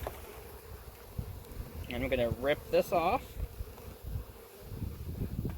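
Honeybees swarm around a bee package box, their buzzing a constant drone while a person talks nearby.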